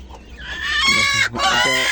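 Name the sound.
native (deshi) chickens clucking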